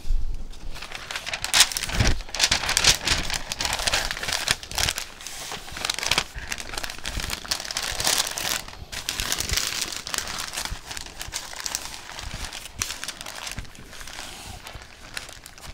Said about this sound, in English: what I'm going to use to wrap it is some pink butcher paper